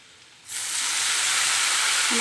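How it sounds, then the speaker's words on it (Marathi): Tempering spices hit hot oil for a vegetable dish with a sudden loud sizzle that jumps up after a quiet start and holds as a steady, bright hiss. "तर फोडणी टाकते जरा"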